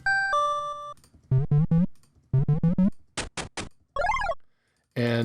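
Pico-8 retro video game sound effects play one after another: short chiptune beeps, quick repeated blips, rising and falling electronic sweeps and a final burst, each brief and separated by small gaps, with no voices.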